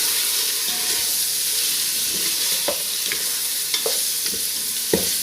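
Oil sizzles and hisses steadily as spices fry for mutton nihari while a spoon scrapes and stirs the pot with occasional sharp clinks.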